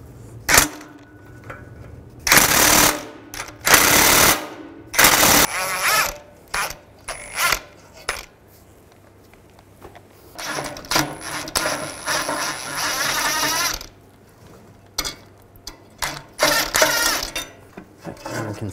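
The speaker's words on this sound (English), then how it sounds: "I'm going to take these two nuts off, use a 15 millimeter socket," A ratchet with a 15 millimeter socket loosens exhaust nuts on a 2010-2017 Chevrolet Equinox, sounding as close, loud bursts of rapid clicking, with several separate turns and short pauses in between.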